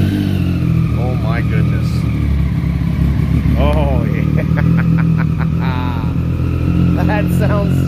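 A Triumph Daytona 675 triple-cylinder sport bike idles and revs in a steady, loud drone with a high whine, as someone talks over it almost the whole time.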